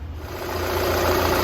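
A Volkswagen CC engine idles steadily after a timing belt and oil service, with a low, even hum and slight vibration, close by and uninterrupted.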